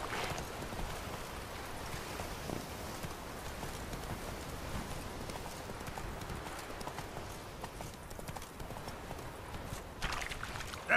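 Roach the horse gallops in The Witcher 3, hooves clip-clopping in a quick, steady rhythm under a constant wash of ambient game sound, with no voices.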